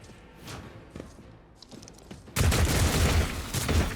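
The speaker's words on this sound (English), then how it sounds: "Is that an autocannon?" An autocannon in Rogue Trader opens up with heavy, rapid thudding shots that jump suddenly loud after a stretch of quieter, spaced impacts.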